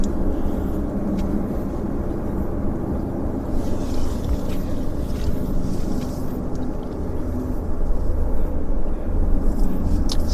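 A broad, steady jet roar rumbles from a distance at Vancouver airport as an airliner rolls for takeoff, swelling slightly toward the end with no voices over it.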